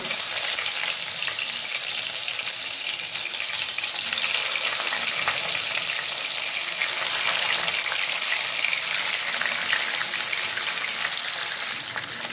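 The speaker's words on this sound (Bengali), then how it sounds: "সর্ষের তেল গরম হওয়ার পর আমি মাছগুলো হালকা" Chhana-stuffed rohu fish pieces fry in hot mustard oil with a steady, dense, loud sizzle that holds evenly throughout, with no talking.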